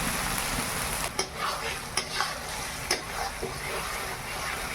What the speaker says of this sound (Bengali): মশলাগুলো আগে ভালো করে ভেজে নেই।